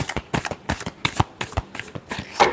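Tarot cards shuffled by hand in a run of quick, crisp riffling bursts and soft flicks, close and fairly loud, with no voice over them.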